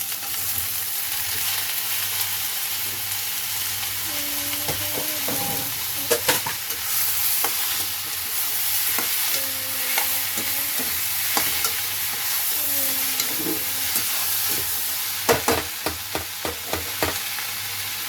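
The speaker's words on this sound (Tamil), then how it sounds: "தக்காளியும் கொஞ்சம் வதங்கட்டும்." Tomatoes sizzle steadily as they sauté in a pan for paneer butter masala, with occasional scraping and stirring sounds from a utensil and no talking.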